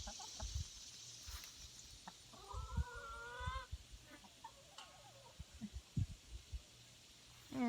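Chickens in a small backyard coop built by hand, with short clucks and a longer burst of calls near the middle over soft outdoor background noise.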